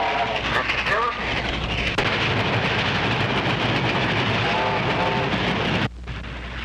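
A loud, continuous rumbling roar of a passing train with rattling noise, voices shouting intermittently over it before it cuts off near the end.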